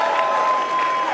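A large crowd at the CPAC 2026 political conference in Dallas, Texas, applauds and cheers loudly and steadily, with a sustained tone running underneath.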